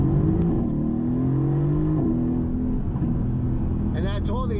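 A Mercedes-AMG GT S engine pulls hard through the gears from the driver's seat, its loud, steady drone rising in pitch with brief dips at each shift, and a voice speaks near the end.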